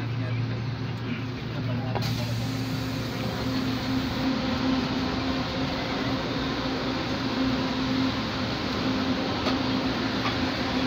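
An LRT-2 light rail train, trainset 18, runs inside a carriage as it nears Araneta Center-Cubao terminal station, with a steady rumble and hum of onboard ventilation throughout. Announcements and speech can be heard over the noise.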